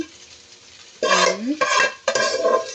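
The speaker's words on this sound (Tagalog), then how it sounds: "Hahalu-haluin po natin yan." Stirring corn in a pan, a quiet background followed by three loud bursts of scraping and rattling kernels against metal, each about half a second long.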